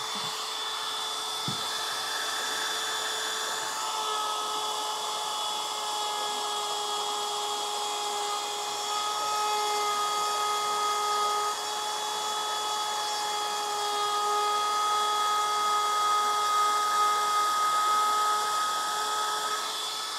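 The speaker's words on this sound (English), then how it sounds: "See, the problem is when you do it routing by hand, and you have got no guide, no jig." A hand-held router is run freehand with no guide or jig, carving letters into wood, giving a high, steady whine with sustained tones and a faint cutting hiss over twenty seconds, close by, with no voices.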